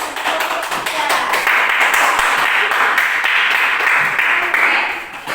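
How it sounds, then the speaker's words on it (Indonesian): A class of students bursts into applause, a steady wash of many hands clapping at once, loud and close, lasting several seconds before tapering at the end. "Kita berikan tepuk tangan."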